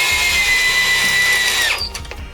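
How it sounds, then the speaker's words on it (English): A power drill driving a long decking screw into wood for a DVD and game shelf, a steady high motor whine for about two seconds that drops off as the screw seats, close and loud with no talking. "this is one of those decking screws, and go ahead and put that in"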